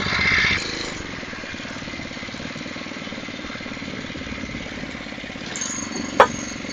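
Phatmoto Rover motorized bike engine running at a steady small-engine idle, a continuous buzzing putter at moderate level with a brief sharp knock near the end.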